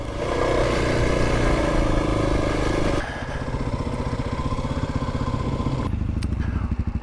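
A Kawasaki KLX300 dirt bike ridden over big rocks, its engine droning loud and close, shifting after a few seconds into a lower, choppy, pulsing rumble with clattering.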